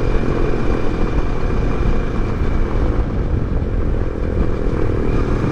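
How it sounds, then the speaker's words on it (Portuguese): A small 50cc motorcycle carrying a passenger strains up a steep hill, giving a steady, loud, continuous engine drone with no talking. "É muito fraquinha a moto dele, é 50 cilindradas na ladeira dessa com garupa."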